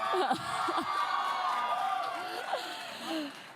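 Crowd noise at the 2018 CCMA Awards red carpet show, a steady wash of cheers and whoops from many people with a couple of louder rises, continuous behind the scene.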